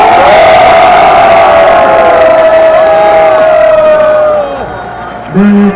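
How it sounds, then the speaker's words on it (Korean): A large crowd at a political rally in Daegu cheers loudly and steadily, with sustained shouting and a prominent drawn-out tone across the din, then tapering near the end. "대구 시민 여러분, 뜨거운 격려의 박수 한번 보내주십시오"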